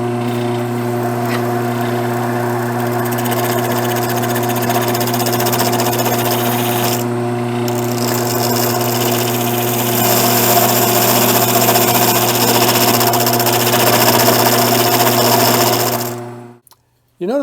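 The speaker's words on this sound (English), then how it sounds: "when I introduced the parting tool to the workpiece, it started to chatter and bounce" A wood lathe's parting tool chatters and bounces against a spinning sapwood workpiece while turning a chair part, a steady loud droning whine with a rough vibrating edge that runs continuously before cutting off near the end.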